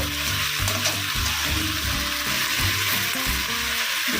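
Water goes into a hot pan of chili chicken sauce, setting off a loud, steady, close sizzle and bubbling hiss that runs unbroken throughout.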